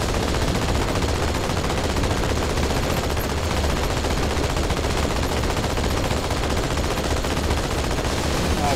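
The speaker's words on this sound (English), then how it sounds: "But I'm shooting!" Dense, continuous gunfire in Halo 2 on the Outskirts map, a loud unbroken wall of rapid shots and combat noise with no pauses throughout.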